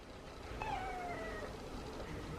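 A feral cat gives one rising, drawn-out meow at feeding time, clear over a steady low background hum, with no other sounds standing out.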